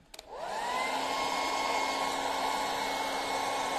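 A hair dryer switches on after a brief click and runs steadily with a loud, continuous whirring blow, used to dry wet paint on a stenciled farmhouse sign, with no talking.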